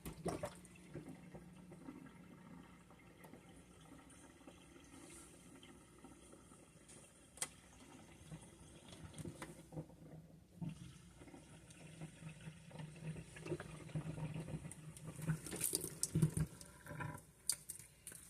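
Dish rinsing water draining from a kitchen sink, a faint, close gurgling and trickling that grows busier and louder toward the end.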